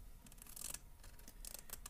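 Scissors snip through folded origami paper for a Pokémon Alakazam model, a few quick crisp cuts in close succession, close and fairly quiet with no talking.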